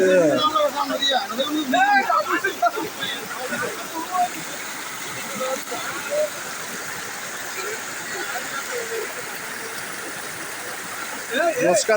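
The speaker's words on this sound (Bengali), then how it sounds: "রাস্তার কোথা পানি ছুটছে" Floodwater roars steadily across a damaged road, a broad continuous wash, with people talking over it at the start and end.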